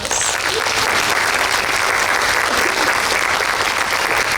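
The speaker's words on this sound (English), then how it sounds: "Let's give all of our participants another round of applause." A large audience applauds participants at a Distinguished Young Women scholarship program in Morgan County, producing loud, dense, continuous clapping that fills the room without a break.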